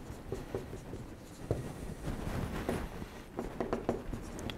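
Marker or chalk scratching across a board in a lecture hall, short quiet strokes and taps in uneven bursts for a few seconds, with no one speaking.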